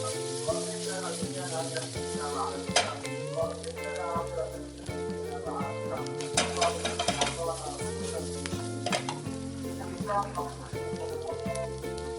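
A pan of tomato gravy bubbles and sizzles steadily on the stove while music plays throughout.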